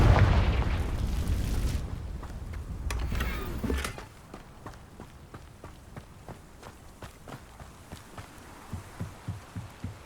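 A Confringo explosive spell in Hogwarts Legacy detonates in a loud, deep blast that rumbles for a few seconds, then fades into quieter rhythmic thumps and footsteps.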